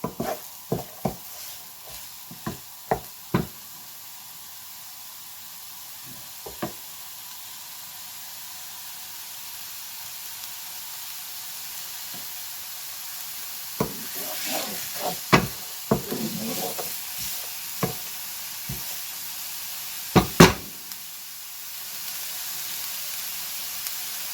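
A frying pan just starting to heat while cooking for a quiche with knacki sausages and carrots gives a faint, steady hiss, broken by scattered knocks and scrapes of a utensil.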